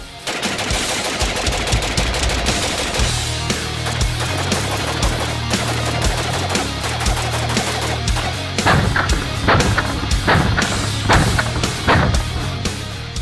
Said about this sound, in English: let's get into the ACR from Modern Warfare 2